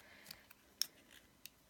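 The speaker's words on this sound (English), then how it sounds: "Let me cut a little of that." Scissors snip through card during card crafting: a few quiet, sharp cuts spaced apart, close by, with a soft background.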